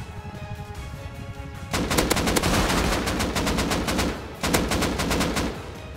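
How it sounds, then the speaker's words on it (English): Turret gunfire in the game Rust, a loud rapid automatic burst running several seconds, pausing briefly, then resuming, with no talk over it. "Sounds like they have a turret out."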